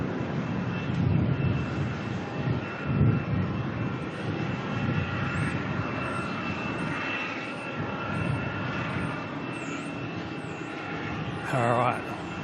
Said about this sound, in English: Can hear the 747 starting to fire up its engines.